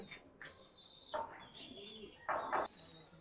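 A sick pigeon coos softly in short, throaty bursts, fairly close, with faint chirps and light rustling around it.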